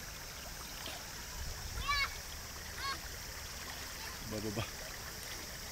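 Water splashes and rushes steadily into a boat, a continuous wash of noise with a few brief surges, while people's voices and whistle-like calls sound over it.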